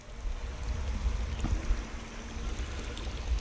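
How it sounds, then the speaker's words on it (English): A continuous stream of water pours from a 3/4 inch black plastic pipe into a backyard swimming pool, a steady broadband gush with a low rumble that holds even throughout. "That's a continuous stream of water, as you can see."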